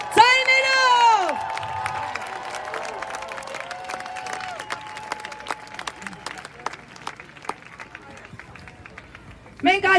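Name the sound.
crowd applauding and cheering at a rally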